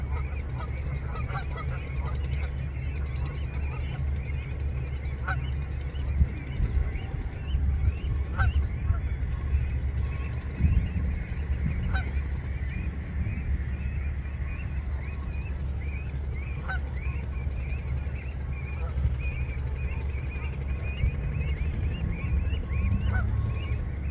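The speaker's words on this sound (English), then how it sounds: "You can probably hear that the goslings are chirping quite continuously." High thin chirps repeat continuously over a low steady rumble, lost goslings calling again and again at moderate distance on a river.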